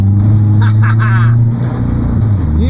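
A car engine idles with a deep, steady rumble close by, rising slightly as it revs, while a brief whine and faint voices sit over the low drone on a city street in Rio de Janeiro.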